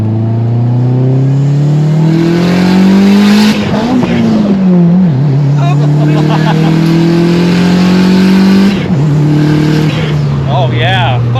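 A turbocharged car at a Cars & Coffee meet revs hard, its engine note climbing and falling through several loud pulls, with whooshing and fluttering turbo sounds in between. The car is close and loud.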